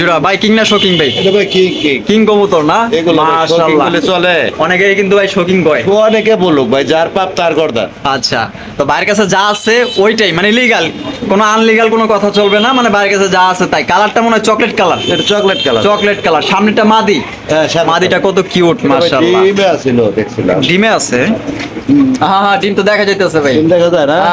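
Large pigeons, some around one and a half kilos each, coo repeatedly in close, steady, overlapping calls while someone talks over them throughout.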